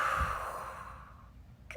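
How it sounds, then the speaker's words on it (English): A child at preschool yoga takes a big breath in and blows it out in one long, soft sigh, close and gentle, fading away with no talking. "take a big breath"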